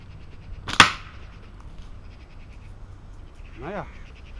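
A single sharp snap of a slingshot shot near the start, followed by quiet background and a short voiced sound later.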